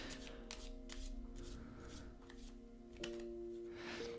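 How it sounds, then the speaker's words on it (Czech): Cards are shuffled and a golden card is drawn during a card reading: faint, soft papery flicks and taps spread over several seconds, with a quiet steady tonal hum in the background. "A ještě vám vytáhnu zlatý kartopál"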